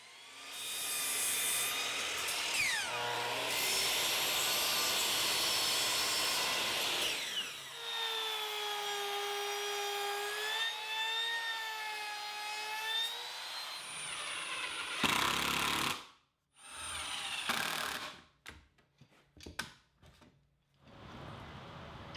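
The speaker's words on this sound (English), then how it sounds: "Now I'm ripping another 2x4 at 2 inches" A power saw rips a 2x4 board lengthwise, a long loud whining cut with the motor pitch wavering under load, followed by the blade spinning down and scattered knocks and clatter of wood being handled.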